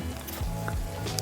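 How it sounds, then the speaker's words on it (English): A grilled cheese of pear and Gruyère on rosemary-Parmesan crusted sourdough sizzles in a hot pan, a steady close frying hiss with faint utensil scrapes. "I hear some sizzling already"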